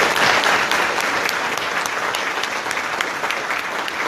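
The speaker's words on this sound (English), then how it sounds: "We give them a round of applause." Dense, steady applause from a community audience at a community and police relations event, honoring citizens police academy graduates, a loud continuous wash of many hands clapping close by for about four seconds.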